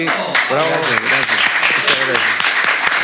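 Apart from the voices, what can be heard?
applause for a guest on a talk show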